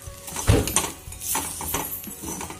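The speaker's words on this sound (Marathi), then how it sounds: "शेंगदाण्याचं कूट घालून हे पुन्हा एकदा चांगले हलवून घेऊया।" Ridge gourd peel vegetable being stirred in a pan after peanut powder is added, with a few close clinks and scrapes of a utensil against the pan and a soft sizzle underneath.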